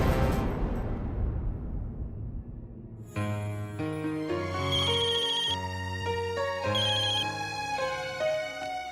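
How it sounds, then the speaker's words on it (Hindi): A phone ringtone plays a repeating electronic melody of bright tones after a fading swoosh, steady and fairly loud, in an indoor office scene, without speech. "आप जरा मेघना जी को फोन लगाइए।"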